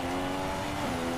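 A Ferrari Formula 1 race car in F1 2016 drones past with a steady, high-pitched engine whine, loud and continuous with a slight pitch shift as it goes by.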